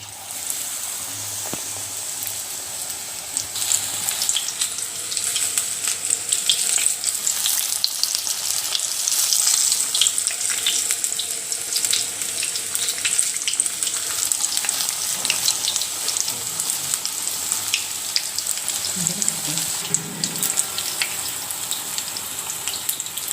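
Batter-coated chilli bajji deep-frying in plenty of hot oil gives a steady, dense sizzle and bubbling that stays loud and even throughout, with no voices.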